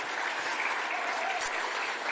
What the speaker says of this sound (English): So a round of applause for all